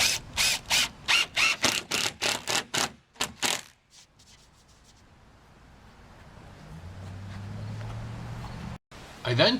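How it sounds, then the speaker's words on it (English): A driver sinks 1-5/8 inch galvanized screws into wall sheathing on an elevated box blind panel, giving a quick run of about a dozen sharp rhythmic bursts, followed by quieter hum and shuffling. "fasten with 1 5/8 galvanized screws at roughly 10 inches on center"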